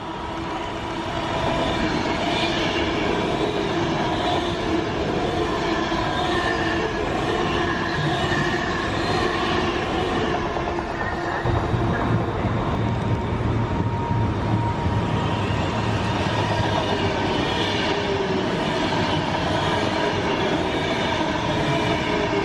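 An Avanti express train rushes through a station without stopping, a sustained loud roar of wheels and rails lasting the whole stretch, with a deeper rumble joining partway as the carriages sweep past close by.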